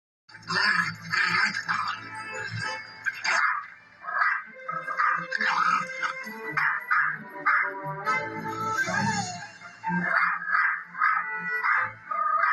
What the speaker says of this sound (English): her bark is higher pitched than my Marty's